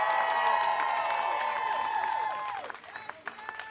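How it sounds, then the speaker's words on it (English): Brief crowd applause breaks out at a Democratic leadership press conference on reintroducing the Medicare for All Act, scattered claps rising in the last second as a sustained tonal sound fades away. "let's give them a big round of applause"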